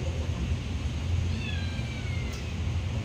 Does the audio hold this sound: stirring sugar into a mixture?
no